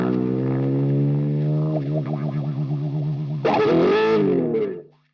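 A distorted electric guitar with hand-wound pickups sustains a held note that turns wavering and vibrato-laden, then jumps to a brighter bent note before cutting off, loud and close.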